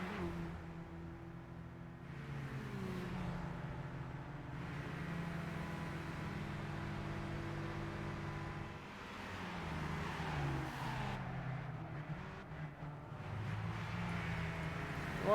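Mazda MX-5 race cars in Gran Turismo 5 droning through a race, engine notes rising and falling as several cars rev and shift, continuous and moderately quiet.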